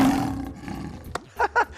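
A lion roars in a short, loud burst with rough growling tail-off and a couple of deeper grunts after, alone without talk.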